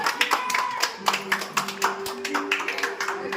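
A small group of people claps to welcome a newborn baby girl into a decorated home, sharp irregular claps popping close by over soft background tones.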